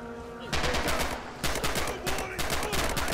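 Bursts of rapid gunfire in the WWII shooter game Red Orchestra, at the Stalingrad battle, loud and near with broadband cracks in repeated volleys over about three seconds.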